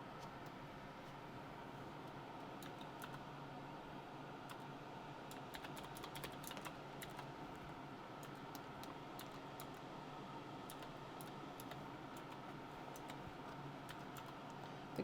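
Someone types on a computer keyboard, making quick irregular clicking bursts over faint steady background hum, close but quiet.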